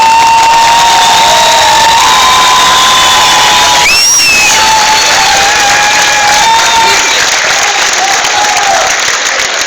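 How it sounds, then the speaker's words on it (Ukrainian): Loud applause and cheering fill a concert hall in Melitopol as the audience calls the band back for one more song, with dense clapping throughout, a short whistle near the middle and scattered shouts over it. "давайте своїми оплесками попросимо хлопців ще зіграти нам одну пісню"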